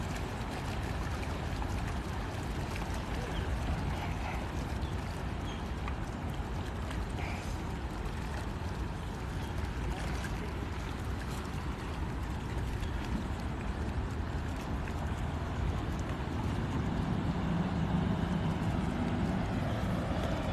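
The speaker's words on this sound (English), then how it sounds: "Boats always speed through once they get out of that area." Motorboats speed through an ocean inlet by a jetty, a continuous far-off engine rumble over washing water that grows slightly louder toward the end, with no talking.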